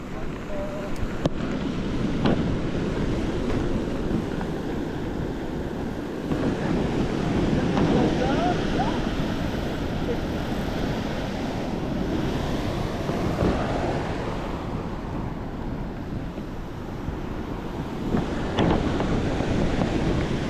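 A mountain river in the highlands along a bike route, heard as a steady, broadband rush of flowing water that stays loud and continuous throughout, with some wind buffeting the microphone.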